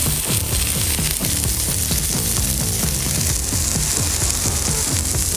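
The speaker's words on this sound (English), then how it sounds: "Now with the oil down, put our patties down." Burger patties sizzle on an oiled Blackstone griddle for Oklahoma onion smash burgers, a dense, continuous loud frying hiss with rapid crackling throughout and no talk.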